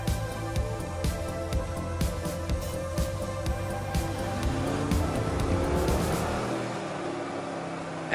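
A 2019 Mercedes-AMG G63 Edition 1 heard while driving, with a loud, steady engine roar and tire rumble running throughout, rising and shifting in pitch as it accelerates before the low end drops away near the end.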